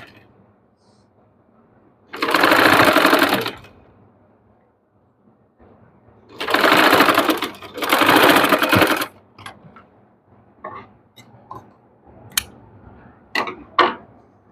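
A sewing machine stitching lace onto a dress neckline runs in three loud, close bursts of rapid whirring stitches separated by pauses, followed by scattered small clicks and ticks.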